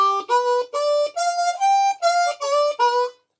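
Harmonica playing a simple blues arpeggio, eight short reedy notes in a steady rhythm that step up and back down, clear and close with no talking, ending in silence.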